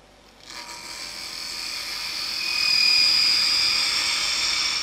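A 1/8 inch parting tool cutting off a wood spindle turning on a lathe, a rising high whine and hiss that swells and holds steady as the cut deepens.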